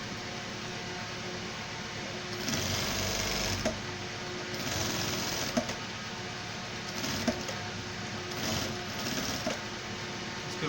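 A sewing machine runs while stitching the leg of a chirma pant, a steady, close mechanical whir that surges and eases with a few sharp knocks along the way, with no talking.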